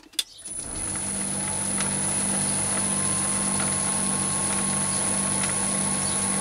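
A mini lathe with a carbide insert takes a slow, intermittent cut on power feed at a spindle speed of about 260 rpm. A steady, droning motor hum with a high whine sets in after a brief click and runs evenly throughout.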